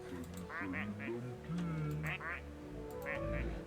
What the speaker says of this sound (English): There's lots of quacking.